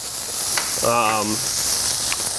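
Bacon-wrapped cod frying in a hot pan gives a steady, close sizzling hiss throughout, with a brief voice-like tone rising over it midway.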